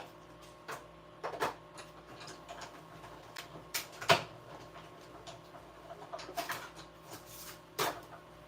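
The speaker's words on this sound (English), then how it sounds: "I'm not going to bring my cut and emboss machine over. I'm just going to take this over there and run it through." A cut and emboss machine feeding paper through for a cottage wreath craft, heard up close as a steady mechanical hum under irregular clicks, ticks and crackles, with one sharper snap midway and no talking.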